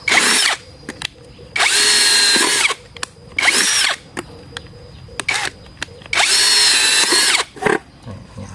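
A power drill whines in several bursts of drilling holes in a large can, some long and some short, with brief pauses and clicks between them, close and loud.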